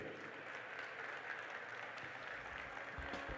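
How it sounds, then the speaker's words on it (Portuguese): Audience applause at the opening of a national urban transit seminar, greeting officials called to the stage; steady, dense clapping from a sizable room throughout, fairly quiet and distant. "às quais eu peço uma salva de palmas"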